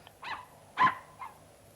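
A small dog barks three times in quick succession, sharp and fairly close, with short quiet gaps between the yips.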